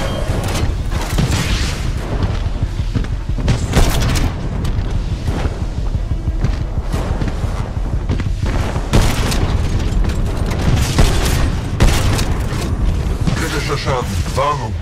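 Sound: alternate fire shot explosions in Titanfall 2 video game

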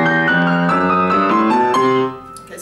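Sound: rock and roll piano ending riff

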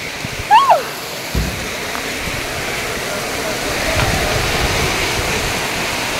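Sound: rain falling heavily outdoors

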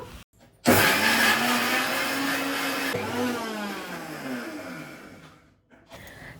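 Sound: mixer grinder grinding onions, garlic, coriander and cumin powder

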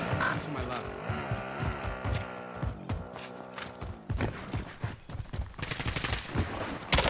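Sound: gunfire in Call of Duty Warzone video game

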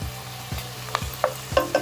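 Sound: onions and green chillies frying in a pan

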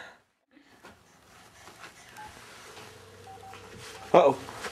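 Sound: telephone keypad dialing tones as a baby presses buttons

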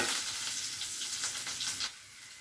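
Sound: tempering with curry leaves and garlic sizzling in oil

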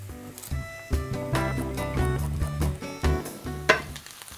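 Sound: onions frying in butter in a pan

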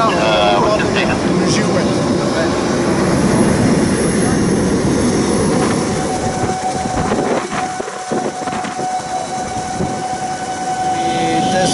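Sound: Solar Impulse airplane engines during ground run-up test

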